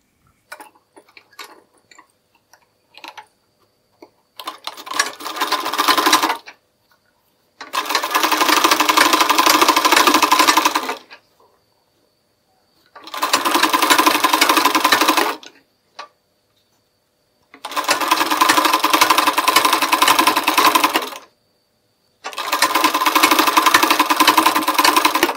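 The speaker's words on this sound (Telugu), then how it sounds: "ఈ చివరన ఇలాగా స్టిచ్ చేసుకుంటూ రావాలి." A sewing machine stitches blouse fabric in five bursts of rapid, even whirring, each a few seconds long, separated by quiet pauses with faint clicks; no talking.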